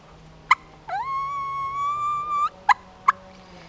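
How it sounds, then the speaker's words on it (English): A wild turkey gobbler answers a hunter's call late in the season, one drawn-out, clearly pitched gobble lasting over a second, bracketed by a few sharp close clucks or call notes, with no talking. "He gobbled back at me"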